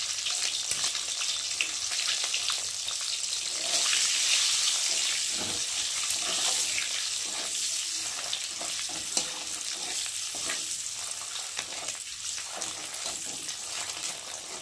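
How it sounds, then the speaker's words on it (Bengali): Eggs fry in oil with turmeric and chili powder, giving a continuous loud, hissing sizzle that holds steady for the whole stretch, with faint stirring now and then and no talking. "এত ডিমগুলো বেশ হালকা হালকা করে ভেজে নিয়েছি।"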